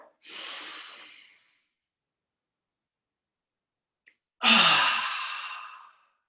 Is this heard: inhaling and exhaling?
yes